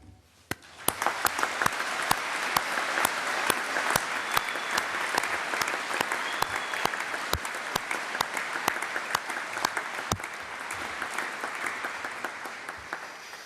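Families and friends at a university graduation ceremony applaud the graduands, a long steady wave of clapping with a few sharp, distinct claps standing out near the front.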